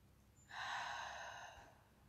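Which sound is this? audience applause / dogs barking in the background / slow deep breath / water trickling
slow deep breath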